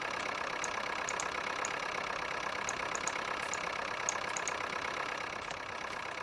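A Fordson Power Major tractor engine runs at a steady idle, a constant mechanical drone with a faint repeating tick, close by and alone, without any speech.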